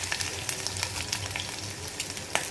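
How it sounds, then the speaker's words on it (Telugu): Garlic sizzles steadily in hot oil with mustard seeds, cumin and fenugreek for a mango pickle tempering, a close, continuous crackle with small pops throughout. "చూసారు కదా, వెల్లుల్లిపాయలు వేస్తున్నాను."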